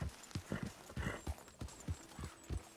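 Horse hooves clip-clopping in Red Dead Redemption II, a steady, fairly close walking rhythm of distinct hoof thuds with a faint hum and occasional background noise.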